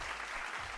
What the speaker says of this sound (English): Round of applause for all of you hanging out